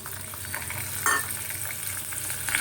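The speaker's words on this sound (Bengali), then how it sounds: "প্রথমে আমি আলুটা দিলাম যেগুলো ভাজতে একটু সময় লাগে" Potatoes frying in hot oil, a steady close sizzle with a brief louder crackle burst partway through and no talk over it.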